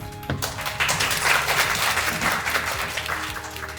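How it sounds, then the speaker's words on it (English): Sustained applause from an audience at an AI hackathon in Tokyo, a dense wash of many hands clapping steadily throughout. "I do want to give them a little nod and a little applause."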